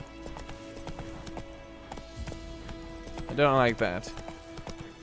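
Horse Roach's hooves clip-clop in a steady galloping rhythm in The Witcher 3 game, with a short neigh in the middle, while someone talks over it.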